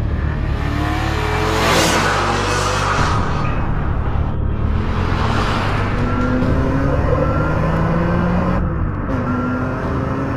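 A BMW M3 engine pulls hard while driving, its sweet mechanical note rising and falling through the revs, loud and close throughout with no talk over it.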